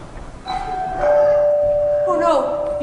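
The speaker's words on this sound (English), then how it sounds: "She wouldn't ring her own doorbell." A doorbell rings during a 2003 community-theatre stage performance of the musical Honk!, a sustained bright chime held for about two seconds, fairly loud, with a voice speaking over it.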